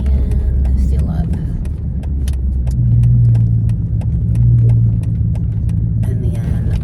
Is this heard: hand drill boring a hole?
no